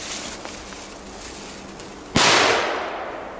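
A single sharp firecracker bang cuts through quiet background hiss, followed by a brief crackling decay.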